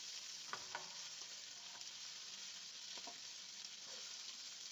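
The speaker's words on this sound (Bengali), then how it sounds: "এখন এঁচোড় আর আলুগুলো মশলার সাথে আরও কিছুক্ষণ এইভাবে কষিয়ে নেব" Jackfruit and potatoes sauté with spices in a pan, a faint, steady sizzle with a few soft stirring scrapes and clinks, alone without talk.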